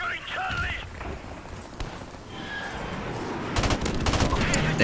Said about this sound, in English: You will be able to notice how fast you're dumping bullets down the barrel of this gun, because it shoots very, very fast for a burst gun,